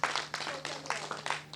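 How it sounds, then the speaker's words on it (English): A small audience at a poetry festival claps in a brief burst, loose and uneven, a few pairs of hands close by with a soft murmur of voices underneath. "So give yourself a round of applause"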